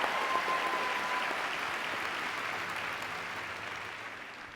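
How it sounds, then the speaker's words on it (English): Sustained applause from a large audience at a school district convocation, a dense wash of clapping that fades gradually. "You can clap for that."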